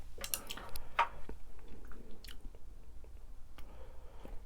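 Close, quiet chewing of mala rosé tteokbokki, spicy rice cakes with corn, with soft bites, crunches and squishy mouth sounds and no talking.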